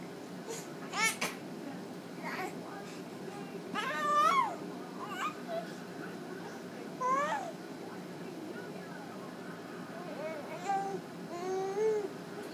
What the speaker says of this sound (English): You see kitten?